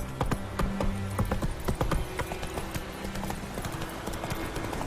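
Horse hooves clop at a steady walking pace in The Witcher 3 video game, close and distinct over a low background hum, with no talk.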